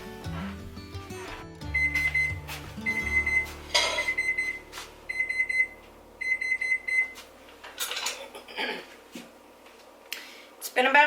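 A kitchen timer goes off while vegetables are being marinated for fire and ice tomatoes, sounding as repeated bursts of high electronic beeps over music and clatter.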